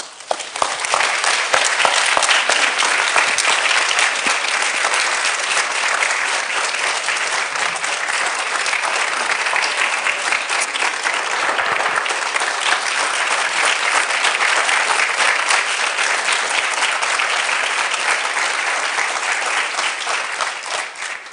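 Sustained, dense applause from a large audience welcomes architect John Paul Eberhard, holding steady for about twenty seconds before easing off slightly at the very end.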